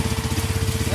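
A motorcycle ridden off-road on a rough jungle track chugs with a rapid, even engine pulse, fairly close and steady throughout the brief moment.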